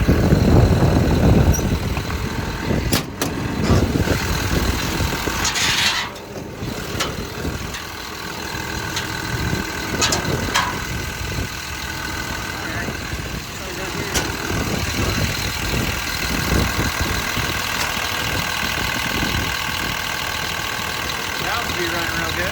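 A John Deere 250G long reach excavator with a Kawasaki hydraulic system idles with a steady diesel rumble, close and loud, while someone talks over it.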